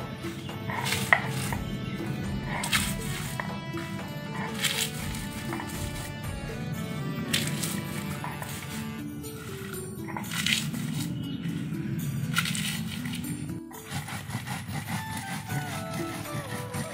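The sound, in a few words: grinding chillies on a grinding stone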